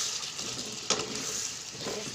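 Shrimp and sweet pumpkin sautéing together in a pan give a steady, soft sizzle throughout, with one sharper clatter near the middle, close by and moderately quiet.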